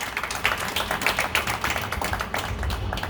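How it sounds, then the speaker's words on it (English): Light clapping from a small audience at a poetry reading in the American Poetry Museum, scattered close hand claps tapping unevenly for about three seconds with no talking over them. "can we give a little clap for that?"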